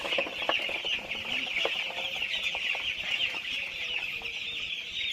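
A crowd of chicks cheeps constantly in a high, shrill chorus, with occasional soft thumps and rustles nearby.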